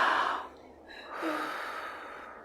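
A deep breath drawn in and let out slowly, close and alone, with a sharp inhale followed by a softer, longer exhale.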